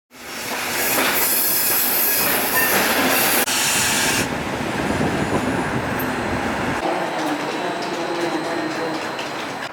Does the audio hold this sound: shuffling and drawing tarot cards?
no